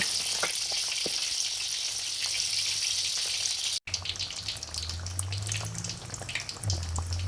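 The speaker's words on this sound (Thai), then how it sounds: "ทอดให้มันเหลือง" Mackerel frying in hot oil until golden gives off a steady, loud, close crackling sizzle that runs continuously, with a brief break midway and low hum underneath.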